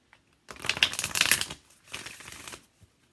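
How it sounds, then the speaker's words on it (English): Oracle cards are shuffled close up in two brisk riffling bursts, the first longer and the second shorter, in a quiet room. "Should I keep shuffling, Spirit?"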